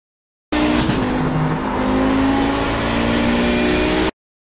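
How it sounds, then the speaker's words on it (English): An Audi 90 GTO race car in the iRacing game at Sebring revs hard and bounces off the rev limiter, a loud, buzzing engine note that holds steady and close, then cuts off abruptly. "You'll hear my car bouncing off the rev limiter"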